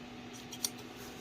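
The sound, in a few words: scissors cutting fabric while hemming trousers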